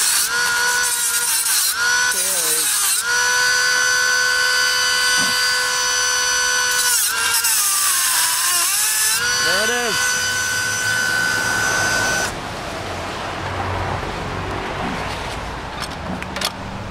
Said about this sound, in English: U-lock, Dremel, yeah, so U-lock versus Dremel.